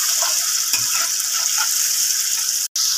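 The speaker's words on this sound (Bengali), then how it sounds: "এবার টমেটো দিয়ে ভালোভাবে একটু মিশিয়ে নেওয়া হচ্ছে।" Grated tomato being stirred into a sizzling pan of frying lotte fish curry, a steady broad hiss of oil running throughout at close range with faint scraping, no talk.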